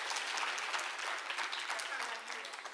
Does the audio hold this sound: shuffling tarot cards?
no